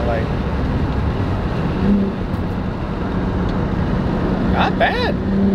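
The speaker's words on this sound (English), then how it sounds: "What's the downshift sound like?" A 1998 Lexus GS300 with a modified exhaust downshifting, a loud continuous engine and exhaust drone with brief rising tonal sweeps near the end as revs climb.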